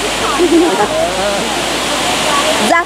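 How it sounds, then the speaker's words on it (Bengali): Changey Waterfalls in Kolakham pours down from a great height as a loud, steady roar of falling water that fills the scene, with brief voices talking over it. "এই যে সেই ফেমাস ছাঙ্গি ওয়াটারফলস"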